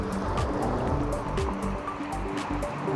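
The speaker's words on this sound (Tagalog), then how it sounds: "dito tayo sa may dagat banda" Sea waves wash onto the shore at Port Cornaa on the Isle of Man, a steady broad surf rush with rolling swells, fairly close and loud, with no talk over it.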